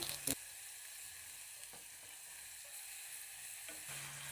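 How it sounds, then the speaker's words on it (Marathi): Crushed garlic and cumin seeds sizzle in hot oil with a pinch of asafoetida for a potato curry, a quiet, steady frying hiss with a brief clatter at the start. "लसूण आणि जिरं तेलात चांगलं परतून घ्यायचं आहे."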